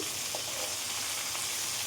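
Fish frying in hot oil for a Bengali lote fish jhal, a steady close sizzle running alone throughout with faint crackles.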